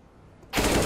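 AK rifle fire in the video game CS:GO, a sudden loud burst of rapid automatic shots cutting in after a quiet moment.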